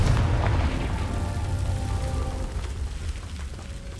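A deep, rumbling fire-spell explosion in Hogwarts Legacy, loudest at the start and then settling into a crackling, rain-like wash that fades slowly.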